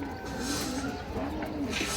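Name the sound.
male pigeon cooing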